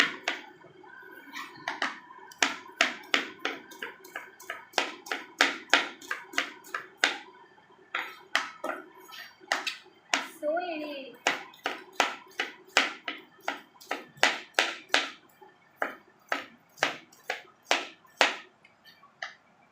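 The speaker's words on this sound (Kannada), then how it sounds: "ನಮ್ಮ ಮನೆಯವ್ರು ನೋಡ್ರಿ ಉಳ್ಳಾಗಡ್ಡಿ ಹೆಂಗೆ ಹಚ್ತಾರೆ" Onions are chopped with a knife on a board in a home kitchen, ready for onion bajji. The knife strikes in quick, close, rhythmic taps, sometimes in brisk bursts and sometimes with short pauses between them.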